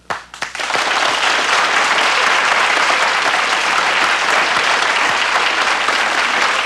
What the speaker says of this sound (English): why are you applauding it?